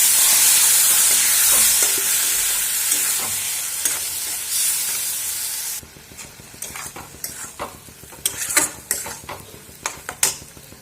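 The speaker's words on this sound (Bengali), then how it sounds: "এটাকে আমি ভাজা ভাজা হওয়া পর্যন্ত রান্না করব" Boiled kalai dal with spices frying in a pan gives a loud, dense sizzle that fades after a few seconds, leaving quieter frying and irregular spoon scrapes and clinks against the pan.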